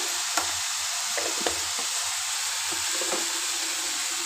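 Vegetables sizzle in a pan with chili powder, cumin and spices for a saak dish, a steady broad hiss with occasional stirring scrapes, close and continuous with no talking.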